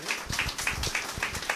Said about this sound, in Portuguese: Palmas para o senhor Arnaldo.